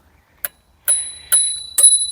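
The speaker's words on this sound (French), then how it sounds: "on retrouve également une petite sonnette" Small handlebar bell on an RCB RK6 folding bike, rung four times in separate bright metallic dings, the later strikes ringing on with a sustained shimmering tone; close and clear, with no talking.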